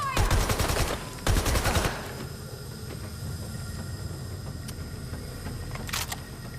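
Bursts of automatic gunfire in a Watch Dogs: Legion firefight, two loud rapid volleys in the opening seconds, then a lower rumble with a brief, fainter burst near the end.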